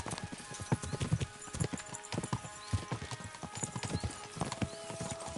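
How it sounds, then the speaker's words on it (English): Horses gallop in the video game Kingdom Come: Deliverance, their hooves clip-clopping in a quick, steady rhythm close by with a faint whinny, and no voices over the hoofbeats. "We should spur the horses on."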